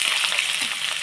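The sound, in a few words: frying spices with turmeric and chilli powder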